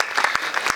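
Scattered applause from an audience at an outdoor Hindi poetry gathering on a cold night, a brief patter of claps, fairly close and sparse, with no talk over it.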